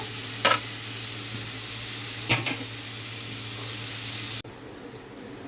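Onions frying in a pan for an egg and prawn dish, a strong, steady hiss with a few spatula scrapes that cuts off sharply near the end, leaving quieter room sound and one last scrape.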